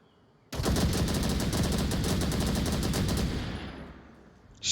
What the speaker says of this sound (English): Shots ring out.